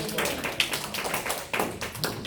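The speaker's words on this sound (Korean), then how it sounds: "매번 이렇게 제 강의에 오셔서 박수 쳐주셔서 굉장히 감사합니다." Students applaud a lecturer in a classroom with brisk, close, continuous hand clapping that is fairly loud throughout, and no one speaks.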